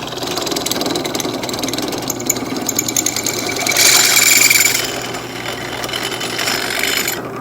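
A drill boring all the way through metal, a loud steady grinding whine that swells to a harsher peak midway before settling back, with no talk over it.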